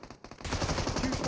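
Automatic gunfire in the PUBG Mobile battle royale game, a dense, loud burst of rapid shots that starts abruptly after a brief quieter lead-in and continues steadily to the end.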